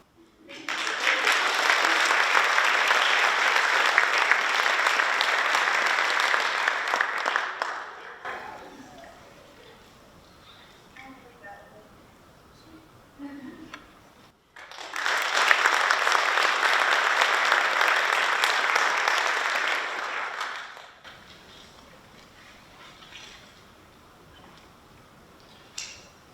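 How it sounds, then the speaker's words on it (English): Applause at a National Honor Society induction ceremony for the student officers: two long bursts of dense clapping from a crowd, each lasting several seconds, separated by a quiet gap with soft room noise. "we give a nice round of applause to our officers"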